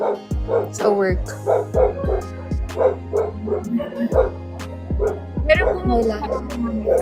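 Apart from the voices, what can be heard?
dog barking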